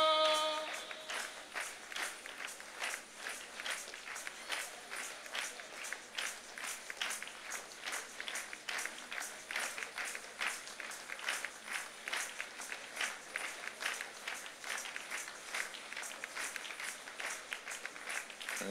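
Sustained audience clapping at a church revival gathering, a steady, rhythmic wash of many hands beating in time, fairly distant and even for the full stretch.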